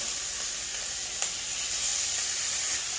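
Gyro meat frying in a pan as it is flipped and browned to a crust: a steady, even sizzle and hiss throughout, with one brief crackle and no talking.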